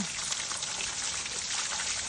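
Water splashes and sprays onto a crop field in a continuous, close, spattering hiss.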